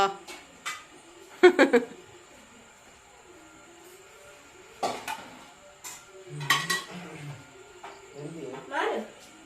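Plates and cutlery clatter in short clusters of clinks and knocks, with people talking nearby between the bursts, in a home kitchen.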